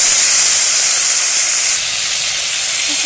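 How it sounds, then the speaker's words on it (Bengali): Chalta (elephant apple) pieces with two chillies frying in hot oil in a wok give a steady, loud, broad sizzling hiss that continues unbroken, easing slightly partway through. "কড়াইতে দিয়ে দিয়েছি তেল আর দুটো লঙ্কা, দিয়ে চালটাটাকে দিয়ে একটু তেলের সঙ্গে ভেজে নেব"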